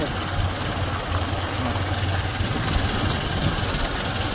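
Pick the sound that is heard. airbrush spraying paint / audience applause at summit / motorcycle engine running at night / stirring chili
motorcycle engine running at night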